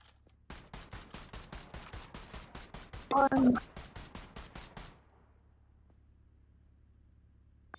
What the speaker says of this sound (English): He's shooting in the sky again.